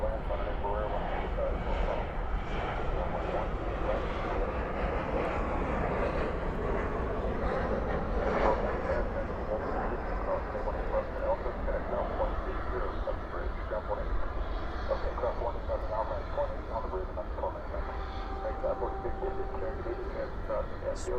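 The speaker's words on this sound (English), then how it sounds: "Spoilers up, reversers out on this E175." An Embraer E175 jet lands at night at Dallas Fort Worth airport with spoilers up and thrust reversers deployed, giving a loud, steady engine roar that holds for the whole stretch, with a voice talking over it.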